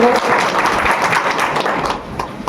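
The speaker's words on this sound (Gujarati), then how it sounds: "એમની માટે પણ એકવાર તાળીઓ થઈ જાય." A crowd applauds a local candidate at an outdoor political rally in a Gujarati village. Dense, loud clapping spreads across the gathering and eases off slightly near the end.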